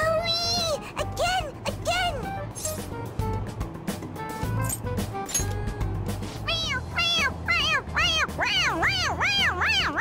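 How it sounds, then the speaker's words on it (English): A cat toy in Persona 5 Royal meows when pressed on its head, giving repeated bright, close meows in short bursts, several in a row near the end, under background game music with a little talk. "It meows when you press on its head."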